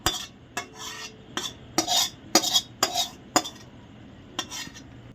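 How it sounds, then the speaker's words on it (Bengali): A spoon stirs spice paste into bhuna khichuri in a pot, giving a run of irregular scraping strokes and light metallic clinks. The sound is close and moderately quiet, with no talking. "এবার খিচুড়ির সঙ্গে ভালো করে মশলাটাকে মিশিয়ে দেবো"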